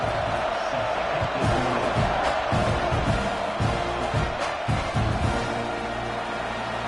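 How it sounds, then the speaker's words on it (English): A football stadium crowd roars in a steady, dense wash before kickoff, loud throughout with scattered shouts and thumps and no clear break. "this crowd now ready to get behind them"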